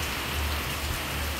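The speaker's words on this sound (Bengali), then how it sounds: "এই যে আবার বৃষ্টি শুরু হয়ে গেছে" Heavy rain pouring down steadily on a rooftop, a dense continuous hiss with no pauses, close and loud throughout.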